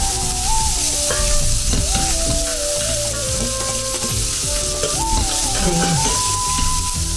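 Onions for tomato biryani sautéing in a hot pan with a little turmeric, a loud, continuous close sizzle with stirring.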